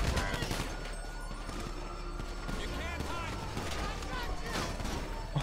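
Gunfire in GTA Online, scattered shots and bursts mixed with game action and effects, heard under steady talking from players.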